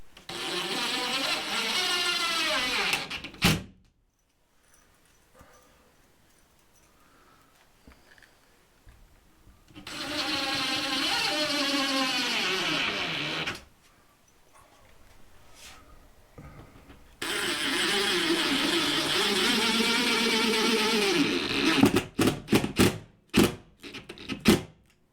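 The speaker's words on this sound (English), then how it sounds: "I'm going to use 1 5/8 inch drywall screws and get this thing tightened" A power drill drives 1 5/8 inch drywall screws into a wall in three long whirring bursts separated by quiet pauses, ending with a string of short, sharp trigger pulls.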